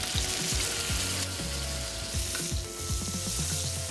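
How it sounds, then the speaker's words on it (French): Lamb noisette sears in olive oil in a very hot pan, giving a loud, steady sizzle with crackling spits. Intermittent stirring or scraping sounds run through it, and no one speaks. "on va faire saisir dans une poêle quand même assez chaude à l'huile d'olive"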